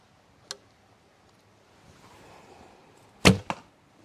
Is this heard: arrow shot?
yes